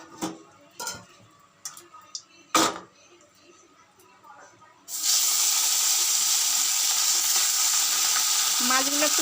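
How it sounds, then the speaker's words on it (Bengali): Fish fries in hot oil in a wok: a few scattered clinks and taps come first, then a loud, sustained, close sizzle takes over for the rest of the clip. "আমি মাছটা ভাজবো তেলটা গরম করছি কড়ায়"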